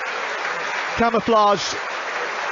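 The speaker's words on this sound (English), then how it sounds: "are roundly applauded by everybody in the City Stadium" Stadium crowd at a Premier League match between Manchester City and Brentford at the City Stadium applauds as armed forces members trot off the pitch carrying a poppy banner; steady applause throughout, with a commentator speaking over it.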